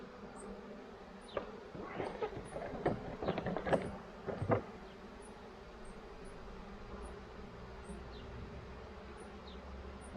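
Honeybees buzz around a hive during a syrup feeding, with a handful of bees droning past close by in short bursts before the sound settles into a quiet, steady outdoor background.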